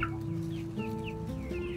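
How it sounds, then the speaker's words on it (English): Several laying hens cluck and murmur nearby on an urban farm, with steady overlapping calls and a low background hum. "We have 89 chickens, laying hens, and we have 3 turkeys."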